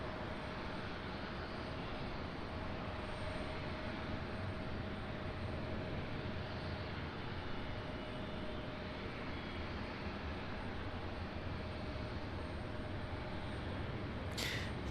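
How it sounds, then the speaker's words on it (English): A Delta CRJ 900 regional jet departs from Raleigh-Durham International Airport as a steady, distant engine roar holds broadband and unbroken from start to finish. "There you go, Delta CRJ 900,"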